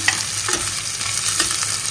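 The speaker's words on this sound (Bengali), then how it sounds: "পেঁয়াজের সাথে আলুটা ভাজা হয়ে যাবে। সরষের তেলের মধ্যেই করছি এটা" Potatoes and onions fry in mustard oil, a close, continuous sizzle broken by quick scraping strokes of a spatula stirring the pan.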